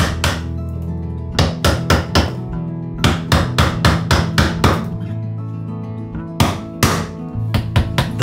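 A chisel is struck repeatedly with a mallet to cut a notch in a wooden decorative strip for a two-tiered tokonoma, crisp close knocks landing in quick bursts separated by short pauses.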